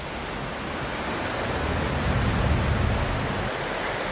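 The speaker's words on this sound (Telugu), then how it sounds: "చాలా పెద్ద వర్షం పడుతుంది" Heavy rain pouring down in Hyderabad, a dense, continuous roaring hiss that swells slightly toward the middle and fills the whole scene without pause.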